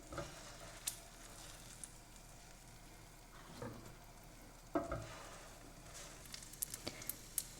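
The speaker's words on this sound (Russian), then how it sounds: "И будем точно так же жарить все остальное тесто." Kefir pancake batter fries in a pan with a faint, continuous sizzle, broken by a few soft clicks and taps from a utensil.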